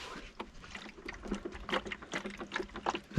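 Water sloshes and trickles inside a discarded item pulled from roadside garbage, sounding as short, close, uneven splashes and gurgles that come in bursts as the object is tipped and shaken.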